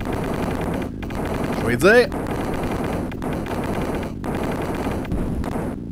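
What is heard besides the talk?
gunfire in a Sega tank video game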